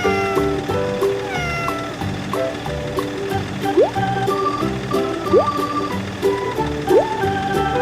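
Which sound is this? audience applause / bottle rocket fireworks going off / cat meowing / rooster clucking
cat meowing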